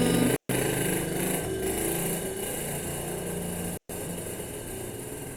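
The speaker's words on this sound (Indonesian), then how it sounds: "rumah saya di pinggir jalan. Jadi ketika ada motor lewat ya itu anak sekolah, ya Allah suaranya" A motorcycle rides along the road just outside a house, its engine giving a steady, fairly loud drone with a low rumble throughout, cut by two brief dropouts, and no voices.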